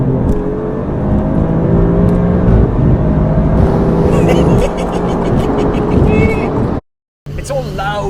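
The engine of an Audi RS 5 Sportback rumbles loud and bassy, then revs and surges as the car accelerates, close up. Someone talks over it, and the sound drops out briefly near the end before returning.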